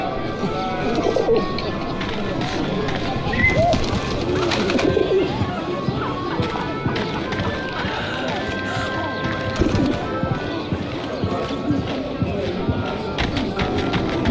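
Pigeons coo softly in the game 11-11: Memories Retold, set in Paris, low murmuring calls scattered across a busy ambient bed with occasional clattering.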